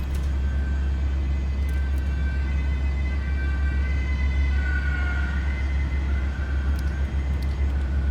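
An ambulance siren at an airport, heard inside an A400M cockpit over a constant loud engine drone, with a faint wavering tone in the background and no voices.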